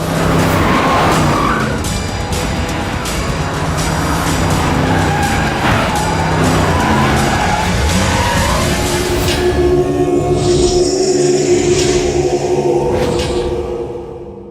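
Loud tire squeal and skidding from a vehicle pulling away hard, accompanied by a continuous roaring engine across a long stretch, with the screech shifting higher toward the end.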